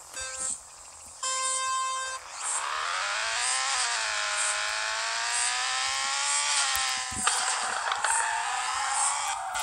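A 600 hp rotary-engined RX-7 on a warm-up lap in FR Legends gives off a high, buzzy engine tone that rises and falls steadily with the revs over several seconds.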